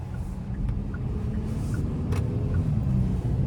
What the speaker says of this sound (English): let's go ahead and take this 2025 Elantra N Line out on the road for a test drive